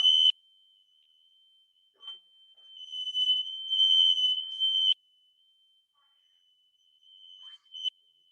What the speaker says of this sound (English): The alarm went off.